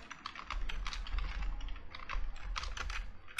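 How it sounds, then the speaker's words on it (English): Computer keyboard typing, a steady run of quick, close key clicks with uneven rhythm over a low background hum, with no voice. "So I will type in YOLO-NAS,"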